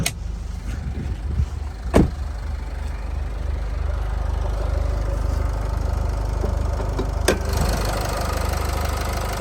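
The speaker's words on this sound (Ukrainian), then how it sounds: "Мотор працює чітко" A Renault Koleos engine idles with a steady, low, even rumble, broken by a couple of sharp clicks, and no one talking.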